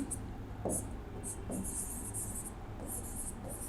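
A pen or marker writes during a class 7 maths lesson, giving a few short, faint scratchy strokes in quick bursts against a quiet room.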